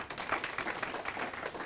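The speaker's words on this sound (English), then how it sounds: "Clap if you're interested." An audience claps at a live talk, a quick patter of scattered hands at moderate distance, brief and fairly soft with no voices over it.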